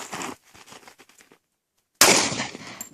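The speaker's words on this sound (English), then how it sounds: "And shoot when ready." A Glock 45 pistol fires a single sharp, loud report at an outdoor shooting session. Faint, quieter voices or noises come just before the shot.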